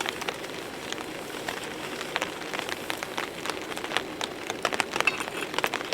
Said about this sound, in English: it's actually a rock that's shimmering with rain on it